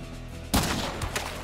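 A single long-range gunshot in the frontier shooter Hunt: Showdown 1896, with one sharp crack following a half-second of low ambience and a short rumbling tail that fades away.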